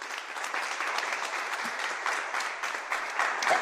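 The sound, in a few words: audience applause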